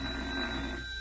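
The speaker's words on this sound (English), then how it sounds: "I'll answer the phone" An old-fashioned telephone bell rings continuously as a radio comedy sound effect, a steady loud jangle filling the moment with no voices over it.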